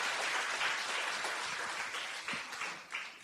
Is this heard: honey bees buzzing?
no